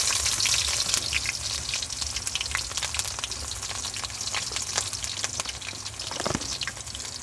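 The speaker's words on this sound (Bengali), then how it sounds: "শুরুতেই আমরা সরিষার তেল দিয়ে দিতেছি, এখন দিতেছি পেঁয়াজ," Sliced onion frying in hot mustard oil for a Bangladeshi pangas fish curry, a steady, close crackling sizzle with faint stirring scrapes, no voices.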